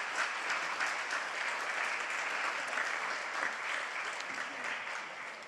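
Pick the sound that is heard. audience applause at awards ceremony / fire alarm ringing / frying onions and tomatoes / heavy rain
audience applause at awards ceremony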